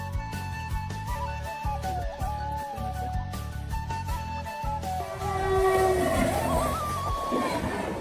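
A fast train races past a level crossing with its horn sounding near and loud, a steady rumble with faint wheel clatter building as it passes.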